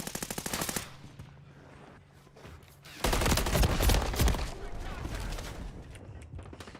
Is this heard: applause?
no